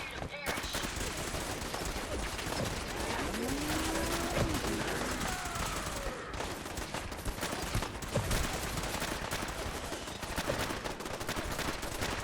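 Sustained gunfire in Fallout 4, a dense, continuous fusillade of rapid automatic and single shots from a firefight, steady and fairly loud throughout, with someone speaking over it at times.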